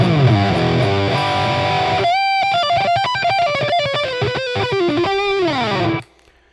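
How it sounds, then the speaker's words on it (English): Distorted electric guitar plays a melodic lead line with sustained, bending notes over a driving accompaniment, loud and continuous before cutting off abruptly. "when the heavier part comes in, I'm going to hit the distortion"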